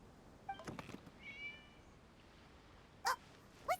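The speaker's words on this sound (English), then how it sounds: "It was just a cat" A cat meows a few times in the game Genshin Impact, soft and fairly distant at first, then two sharper, brief meows near the end against a quiet backdrop.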